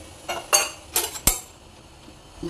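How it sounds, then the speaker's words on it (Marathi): A spoon stirs kofta curry with coriander in a metal pan. There are several sharp scraping clinks in quick succession, loud and close, and then it goes quiet. "हलवून घेऊयात"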